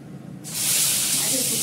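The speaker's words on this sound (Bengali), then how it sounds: "মাছগুলো ভেজে নিই" Fish pieces dropped into hot oil, a loud hissing sizzle that bursts in abruptly after a quiet moment and then holds steady and close.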